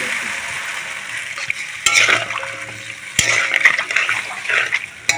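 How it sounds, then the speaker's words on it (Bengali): Water is poured into a pan of simmering koi fish curry with potatoes, giving a splashing, sizzling rush in a few surges that rises and falls over several seconds. "এখন আমি এতে দিয়ে দেবো জল।"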